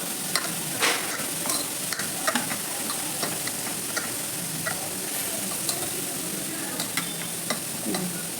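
A spoon mixes chopped onion, tomato, whole chili and coriander in a bowl, giving soft scraping stirs and small irregular clicks. A faint sizzle-like hiss runs underneath, and the sounds stay close and quiet with no talking.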